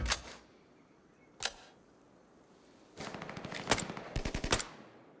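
Bursts of gunfire in the video game Arena Breakout: a couple of single sharp shots, then rapid automatic volleys in quick succession, loud and close.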